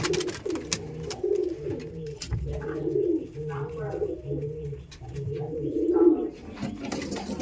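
Andhra pigeons cooing steadily in a loft, soft throaty coos overlapping nearby, with someone talking now and then over them.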